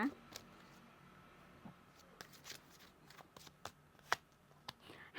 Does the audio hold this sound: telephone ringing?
no